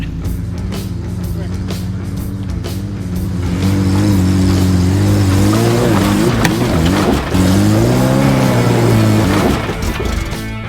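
A small off-road wrecker's engine drones and revs loudly as it drives over rough ground, its pitch rising and falling close by with some talk mixed in.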